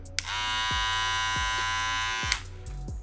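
Rebel electric hair clippers buzz steadily for about two seconds, starting and stopping with sharp clicks, followed by a few soft thumps.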